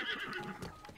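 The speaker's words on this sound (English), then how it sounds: "Oh my god, this horse pisses me off." Horse neighing in the video game Zelda: Breath of the Wild, a close, bright whinny with hoofbeat clip-clops mixed in over about a second.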